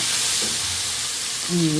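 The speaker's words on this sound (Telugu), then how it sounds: "శుభ్రం చేసుకుని చక్కగా ఫ్రై చేసుకుంటున్నాను అనమాట" Cleaned prawns fry in a pan for a spicy prawn pulao, a steady hiss and sizzle with a brief stir, close and continuous.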